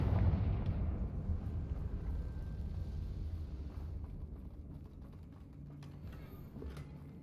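A fiery Confringo spell blast in the video game Hogwarts Legacy, a loud booming rumble that starts strong and slowly rolls off into a lingering low roar, with no voices over it.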